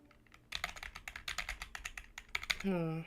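Rapid clattering keystrokes on a computer keyboard placed right beside the microphone, loud and steady for several seconds before a voice cuts in at the end.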